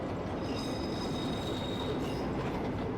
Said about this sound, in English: the driver then moves the train backward onto a higher alignment